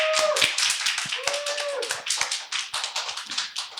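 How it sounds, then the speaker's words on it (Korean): Audience applause at the launch celebration of a vegan ecofeminist group's first activity record, a dense burst of many hands clapping steadily through the room, with faint whistles or voices above it. "박수 한번 주세요"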